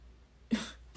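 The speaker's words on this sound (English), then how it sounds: "As I clear my throat, awkward." A single short, quiet throat clearing close by, followed by a faint breath.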